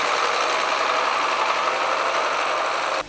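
A Belarus tractor engine plowing a field in the Krasnokutsky district drones loudly and steadily close by, then drops off abruptly just before the end.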